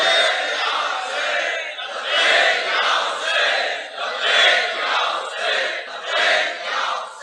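A large gathering at a Muharram majlis in an imambargah roars salawat back in unison, a loud, dense chorus of voices rising and falling in repeated swells throughout.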